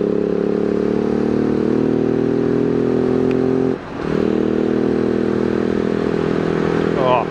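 A 2018 Husqvarna 701 SM single-cylinder motorcycle with lowered gearing being ridden, its loud steady engine drone dipping briefly as the throttle eases off, then resuming with wind noise, close to the rider.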